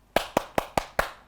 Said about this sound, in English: Clap for me, yes.